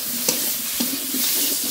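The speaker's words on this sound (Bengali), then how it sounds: "সিদ্ধ করে রাখা আলু দিয়ে দেব। লবণ, হলুদ গুঁড়ো, আলুটা খুব ভালো করে ভেজে নেব।" Boiled potatoes with salt and turmeric being fried and stirred in a pan, a loud close sizzle with a few distinct scraping stirs of the spatula, no voices.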